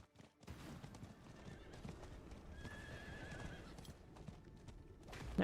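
A wild horse mount gallops in Diablo IV with steady, quick clip-clop hoofbeats close by, then a loud neigh near the end.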